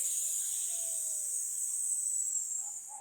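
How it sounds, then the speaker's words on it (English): A slow, steady hissing breath pushed out through the teeth streams continuously and close, holding an even airy sound for a few seconds before tapering off slightly at the end. "that hissing breath out through the teeth"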